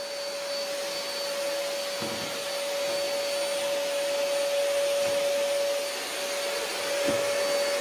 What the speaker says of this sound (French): on va voir comment il fait l'aspirateur, ce grand garçon là